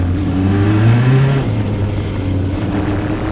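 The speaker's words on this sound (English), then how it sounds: "Pace car by me with the field in tow." Pace car leading a field of SCCA club Formula race cars past at Mid-Ohio in the S's, a steady rising engine drone that swells as the cars pass close, then settles into a lower rumble.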